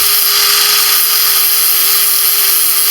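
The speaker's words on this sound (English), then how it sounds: "we're just grinding those down nice and flat" An angle grinder with a flat disc grinds welds smooth, giving a steady, loud, unbroken high-pitched whirring hiss that holds its level throughout, with no pauses or voices.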